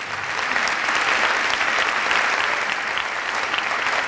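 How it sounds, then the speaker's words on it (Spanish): A seminar audience applauding to welcome a speaker at an international strategic planning seminar, an even, sustained wash of many hands clapping at moderate volume, heard on its own without talk. "Lo recibimos con un aplauso."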